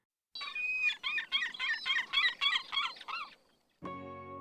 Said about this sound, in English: Seagulls make loud squawking sounds.